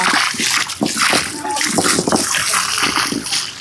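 Water splashes and sloshes continuously while a cement floor at a house entrance is rinsed, a steady close wash with scattered splatter throughout.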